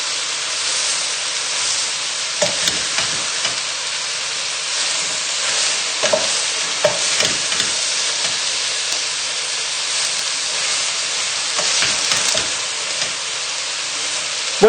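Onions stirred in hot oil and butter over high heat give a steady, close sizzle, with occasional scrapes and taps of the stirring utensil against the pan.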